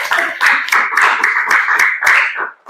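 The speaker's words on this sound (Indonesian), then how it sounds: "Tepuk tangan dong buat semuanya" A classroom of students claps together, a loud, close, uneven burst of many hands with a rapid rhythm that stops abruptly at the end.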